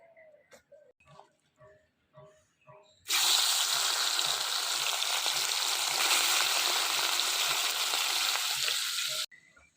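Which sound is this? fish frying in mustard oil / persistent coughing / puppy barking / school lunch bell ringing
fish frying in mustard oil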